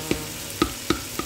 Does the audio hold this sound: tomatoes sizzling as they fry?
yes